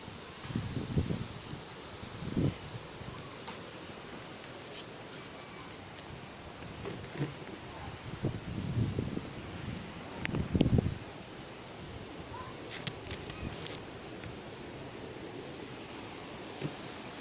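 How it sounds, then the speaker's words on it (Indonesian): Strong wind blowing through trees outside a house, a constant rustling hiss with gusts swelling louder at intervals, heard at a distance with no talking. "Angin deras."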